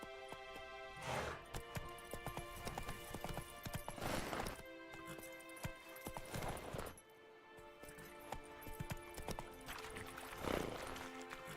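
Horse hooves pound in the Witcher 3 video game, with strong hoof strikes about every three seconds over a steady layer of in-game ambience and music.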